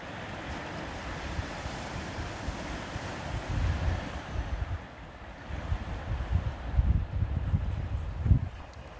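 Water flows and waves surge in a steady, rumbling wash outdoors, with wind buffeting the microphone and swells building louder toward the end, no voices over it.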